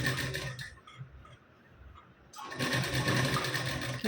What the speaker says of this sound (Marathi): इथं गळ्याला शिलाई देऊन घ्यायची बॅक साईडच्या